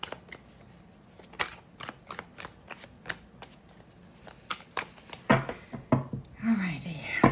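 Soft riffling and flicking of tarot cards being shuffled, a run of quick papery taps followed by a louder sliding shuffle near the end, close and quiet.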